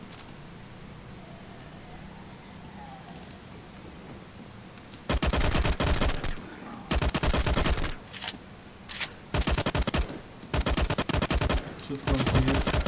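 Gunfire in the mobile survival shooter LifeAfter, a quiet stretch giving way to loud, close bursts of rapid automatic shots in several volleys, separated by short pauses.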